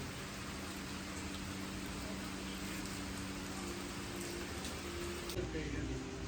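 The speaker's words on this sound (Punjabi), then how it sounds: "ਬਟ ਹੁਣ ਬਾਰਿਸ਼ ਦੁਬਾਰੇ ਸ਼ੁਰੂ ਹੋ ਗਈ" Steady hiss of rain falling, a continuous wash of noise with no pauses, fairly distant and soft, with faint low hum underneath.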